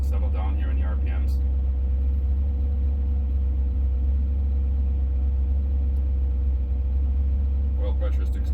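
Car engine with a throttle position sensor fault idling as the RPMs settle, a steady close low rumble that holds throughout, with a voice talking over it at the start and end.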